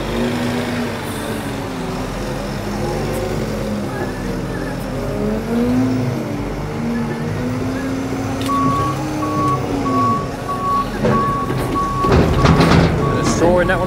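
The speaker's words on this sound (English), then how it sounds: "Lovely bit of reversing." A vehicle with a maize chopping trailer reverses during a maize harvest in Devon. An engine rumbles throughout, then steady, evenly spaced reversing beeps sound in the second half, and a loud burst of mechanical noise comes near the end.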